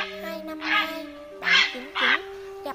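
A grey heron gives a series of harsh, croaking calls in short bursts with brief gaps, loud and close. Steady tonal lines run through the background.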